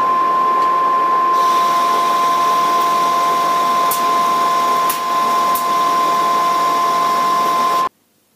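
A conventional lathe turns a steel steering ball-joint sphere, giving a steady, loud machining hum with a constant tone and a few brief clicks, then stopping abruptly.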